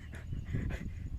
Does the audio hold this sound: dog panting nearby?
yes